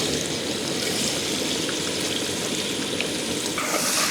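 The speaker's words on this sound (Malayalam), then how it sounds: "ഇത് നമ്മുടെ സവാള നേരെ എണ്ണയിലേക്ക് തട്ടാട്ടാ." Onion frying in hot oil in a pan for a Kerala-style oyster dish, a loud, dense, continuous sizzle heard up close without any voices.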